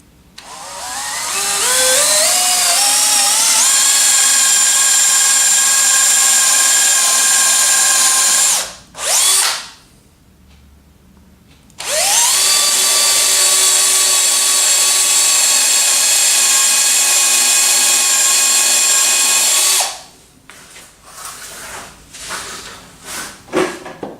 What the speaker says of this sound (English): So taking my drill again, drill some holes.